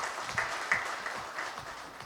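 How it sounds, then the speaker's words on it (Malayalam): Audience at the COA convention in Thiruvananthapuram claps in a steady, dense wash of applause that holds throughout without any voices. "അപ്പൊ അതിന് നല്ല ഒരു കയ്യടി ആ ക്ലസ്റ്ററിന്റെ ആളുകൾക്ക് നിങ്ങൾ നൽകണം."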